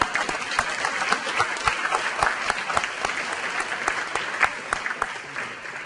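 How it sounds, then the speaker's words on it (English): Gala audience in a banquet hall applauds government services staff, a steady dense clapping that holds at an even level throughout, with scattered sharper individual claps standing out. "Applause for all."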